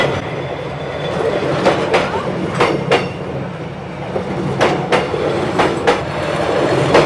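A train rolls slowly and very close past a café table on Hanoi's narrow train street, a loud continuous rumble punctuated by repeated sharp clacks of wheels over rail joints.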